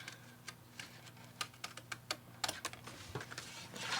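Scissors cut out a paper mask, a run of quiet crisp snips and clicks at irregular spacing, close by, growing into a rustling swish at the end.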